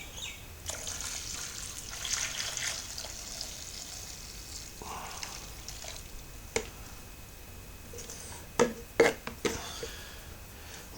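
Home-brewed cream ale wort trickles and splashes as it is poured back into the vessel, a quiet liquid wash with a few sharper splashes and clinks near the end.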